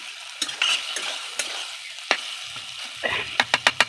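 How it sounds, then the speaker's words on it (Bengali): Marinated Bombay duck fish sautéing in a pan, a soft steady sizzle with scattered spoon scrapes and a quick run of sharp taps near the end, close and without speech. "মাছটা একটু কষিয়ে নেব"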